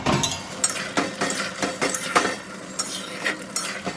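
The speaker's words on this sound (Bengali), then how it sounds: "এবার আমি এই ভেজে রাখা চিংড়ি মাছগুলো সব দিয়ে দিচ্ছি দিয়ে ভালো করে মিশিয়ে দিচ্ছি" Fried prawns are stirred into a Bengali bottle gourd curry in a pan, with a utensil scraping and clinking against the metal in quick, uneven strokes.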